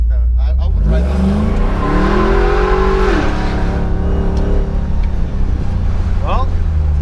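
An LT4 V8 in a Jeep Grand Wagoneer revs up, a rising engine note climbing then dropping back to a loud idle, with people talking over it close by.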